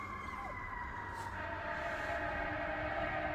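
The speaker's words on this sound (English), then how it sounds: "Well, that's a fire truck." A fire truck siren wails faintly in the distance across an Oregon forest, a steady drawn-out tone above a low background rumble.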